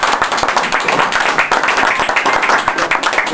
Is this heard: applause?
yes